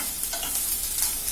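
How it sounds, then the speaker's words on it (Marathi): Cashews and garlic cloves frying in a pan for kadai paneer, a soft steady sizzle with brief stirring scrapes, close and quiet, no voices. "हे थोडंसं आपल्याला फ्राय करून घ्यायचंय"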